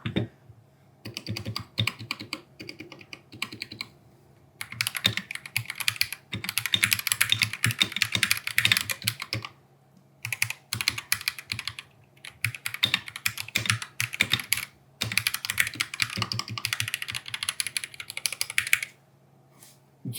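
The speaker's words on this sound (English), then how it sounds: "The sound overall is a little uneven across the keyboard" Brisk typing on a budget mechanical gaming keyboard, clacky keystrokes in bursts with short pauses between runs, close and fairly loud.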